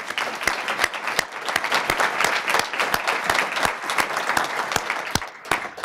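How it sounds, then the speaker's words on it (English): An audience at a lecture event applauding steadily for several seconds, dense clapping with a few sharper claps standing out near the front. "Let's have a round of applause."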